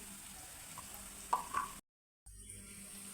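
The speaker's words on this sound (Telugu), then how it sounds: "ఆనియన్స్ పచ్చివాసన పోయేదాకా వేంపాలి" Onions with turmeric fry in a pan, giving a faint, steady sizzle with a couple of soft stirring knocks before a brief dropout to silence, then the quiet hiss resumes.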